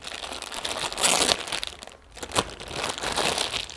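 Cardboard product box for a slip underwear being opened and its hygiene seal band pulled off, close crinkling, crunching and tearing in quick bursts with a brief pause midway, no talking.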